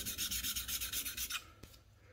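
A rusted bench chisel is lapped on 400 grit abrasive, giving a close, rhythmic back-and-forth rasping rub in quick even strokes that stops abruptly, followed by a single faint knock.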